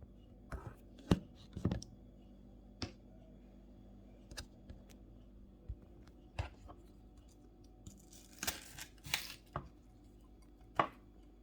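Onions being chopped with a knife on a board while preparing a Tunisian sauce, irregular sharp chops in short bursts, close and fairly quiet, with a few louder clustered strikes near the end.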